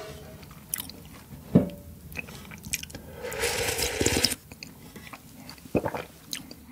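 Spicy ramen with potato dumplings is eaten close to the mic, with crunchy bites, wet slurps and squishy chewing in bursts and a longer noisy slurp in the middle, and no talk.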